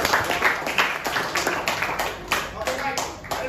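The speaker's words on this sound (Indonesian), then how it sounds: "tepuk tangan dulu ke kelompok 4" A classroom of students claps for a student group in a chemistry lesson, a dense, fast burst of applause close by, with voices mixed in under the clapping.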